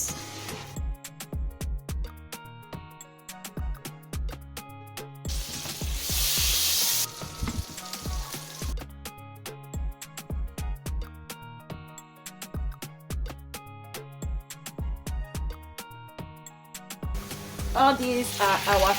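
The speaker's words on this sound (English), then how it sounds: "so I used to toast them before I start cooking them" Rice toasting in a hot pan for an Italian seafood rice dish, a steady sizzle broken by repeated scraping and stirring knocks, with a louder burst of frying midway and again near the end.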